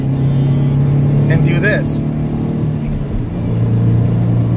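A 2014 Ford Mustang's V6 hums and rumbles from inside the cabin as it accelerates, a steady low drone that climbs gently beneath someone talking.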